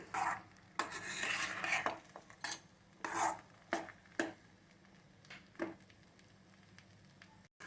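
Cooked rice being stirred into a pan with roasted peanuts and cashews for Karnataka-style chitranna, a series of close scraping and clinking strokes of a spoon against the pan over a faint background, with no talk.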